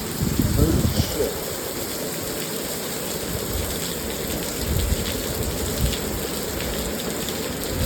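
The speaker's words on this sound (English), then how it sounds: "I had to stop it because I heard the rain" Steady downpour of heavy rain in South Korea, a loud, even wash of drops hitting the ground close by, with a brief burst of louder noise near the start and a voice faintly beneath.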